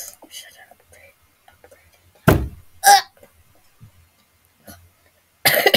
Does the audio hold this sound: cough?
yes